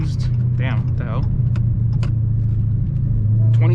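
A 2016 Dodge Challenger Hellcat with a six-speed manual idles close by with a deep, steady rumble. Someone talks over it throughout.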